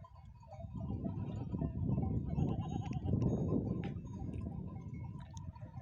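Several sheep bleat continuously, their overlapping cries rising and falling over a low rumble of a flock outdoors.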